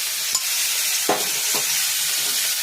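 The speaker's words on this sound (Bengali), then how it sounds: "চিংড়ি মাছটা আমি হালকা ফ্রাই করে নেব" Prawns frying lightly in a pan with tempered spices, a steady close hiss and sizzle broken by a few soft stirring clinks.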